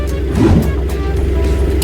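Heavy, congested traffic on the Mumbai–Ahmedabad highway forms a dense low rumble of idling engines and vehicles, loud and continuous throughout.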